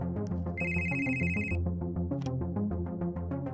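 A phone ringtone rings in a romantic movie scene, a bright electronic tone pulsing early on over background music and then dropping away while the music carries on.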